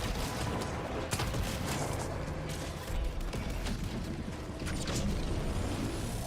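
Mechanism cranked to max RPM in the Helldivers 2 video game, a dense clattering whirr with rapid ratcheting clicks and sharp transient knocks, continuous and fairly loud over several seconds.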